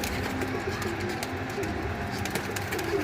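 Young pigeons, newly arrived squabs settling into a loft, coo in a steady low murmur with several birds overlapping, close by and continuous with no talking.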